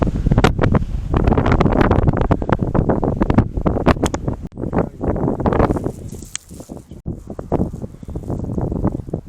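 Strong gusts of wind buffet the microphone at a green dump beside flowers near the Teide cable car, a loud continuous rumbling roar with bursts and brief lulls, no voices.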